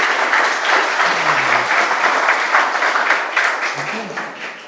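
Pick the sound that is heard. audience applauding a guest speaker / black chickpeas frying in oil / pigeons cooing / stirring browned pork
audience applauding a guest speaker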